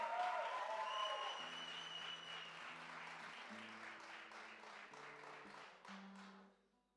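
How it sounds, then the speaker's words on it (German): Audience applause fills the hall at a live music finale in Göttingen, dense sustained clapping from a large crowd that slowly thins and fades out, with faint stage tones and some hum beneath. "Also einen großen Applaus"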